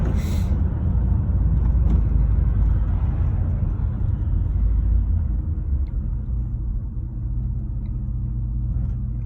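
Straight-piped exhaust of a lifted truck rumbling inside a tunnel, a dense, steady low roar that fills the space for the whole stretch, loud and close with a faint whirring haze above.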